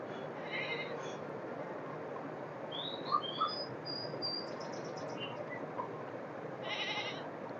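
A goat bleats in the video game Meena 2: a few short, high, nasal bleats over a steady background hum, with soft blips between them.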